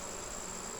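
Honeybees buzz and fan at the entrance of a hive during a nectar dearth, a steady close, even drone with no pauses.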